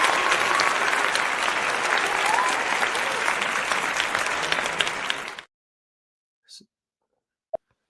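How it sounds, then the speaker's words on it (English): A dense, steady round of crowd applause that continues for about five seconds, then stops abruptly into silence apart from a couple of faint small noises. "I want to go ahead and give you a standard round of applause"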